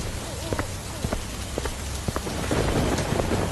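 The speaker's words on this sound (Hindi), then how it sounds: "बारिश पहले के मुकाबले बहुत तेज हो चुकी थी।" Heavy rain pours steadily, a dense close hiss with scattered heavier drops tapping, growing slightly louder toward the end.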